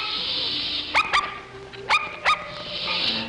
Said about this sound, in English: He'll go on barking for hours.